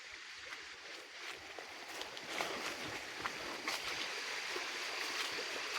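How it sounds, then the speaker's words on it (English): A village river runs near a hidden waterfall, giving a steady, fairly close broadband rush of flowing water with no talking over it. "We are here at this river."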